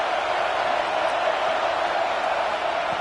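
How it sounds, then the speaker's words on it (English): Stadium crowd at a college football game roaring steadily, a dense, continuous wash of cheering and chatter with no breaks, loud and enveloping throughout. "This crowd bringing the energy and noise early."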